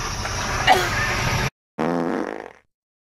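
A loud, raspy fart rumbles for over a second, stops briefly, then returns as a second sputtering burst that fades out.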